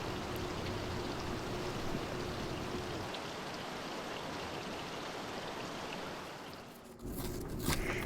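Waterfalls and snowmelt pour down a cliff on a hillside, a steady broadband rush of falling water that holds constant, shifting briefly in tone near the end.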